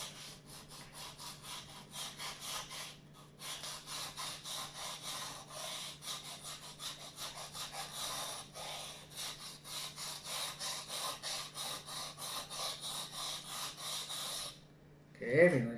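A kitchen knife is stroked across a wet $2 whetstone in a steady, continuous series of close, rasping scrapes that run nearly unbroken, then a brief pause before a sharper scrape at the end.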